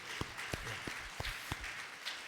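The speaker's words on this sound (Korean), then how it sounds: "우리 함께 두 분에게 힘찬 격려의 박수 한번 보내주셔서 감사하겠습니다." A Baptist church congregation in Wonju applauds at a pastor's ordination, a steady wash of clapping hands with a few louder low thumps standing out near the microphone.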